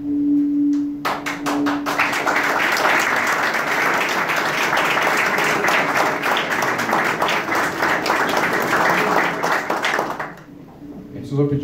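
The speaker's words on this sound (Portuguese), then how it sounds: "Precisou pedir as palmas" Audience applause at a Brazilian governor's announcement event, loud dense clapping that starts abruptly, sustains for about nine seconds, then drops off. A steady electronic tone hums beneath the opening seconds.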